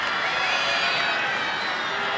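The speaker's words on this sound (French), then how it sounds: "Un peu de sifflet, un peu d'applaudissements." A tennis crowd at Roland Garros in 1995 fills the air with a continuous wash of whistling, murmuring and scattered clapping, with a commentator speaking over it.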